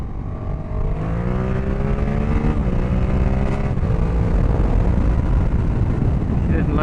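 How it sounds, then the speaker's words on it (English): Motorbike engine revving hard for a wheelie, rising and falling whine with stepped gear-like pitch changes, loud and close, continuous throughout. "Let's do a nice little wheelie now to celebrate its goodbye-ness."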